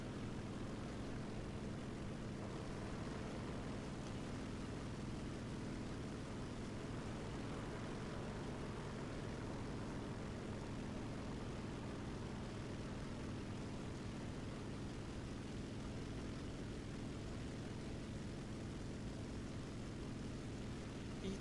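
Steady drone of B-25 bomber engines in War Thunder, a continuous low rumbling hum that holds at an even level throughout with no talk.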